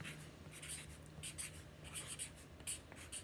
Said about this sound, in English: So I'm going to write down the first word on that top fold down.